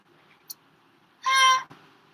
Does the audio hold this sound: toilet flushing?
no